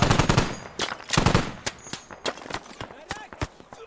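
Close machine gun fire in the military shooter game Squad comes in rapid bursts of sharp cracks, followed by scattered single shots and some background game noise.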